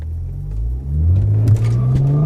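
A tuned BMW 335i N54 turbo accelerates hard from a launch with wheel spin: a deep, loud engine rumble that rises steadily in pitch, with a brief dip partway through.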